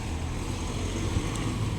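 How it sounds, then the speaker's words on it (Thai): Strong wind roars steadily into an outdoor microphone, a dense low rumble with gusty buffeting that holds loud throughout, no voices present. "ลมมันแรง"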